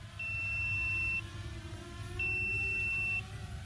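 Two long, steady high-pitched electronic beeps, each about a second, separated by a pause, from a Potensic Atom SE GPS drone descending, over a low rumbling wind-like background.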